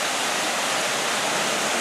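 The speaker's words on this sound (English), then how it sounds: "I'm looking at the waterfall." Steady, dense rushing of a waterfall at Hocking Hills, Ohio, a constant broadband roar close by with no breaks.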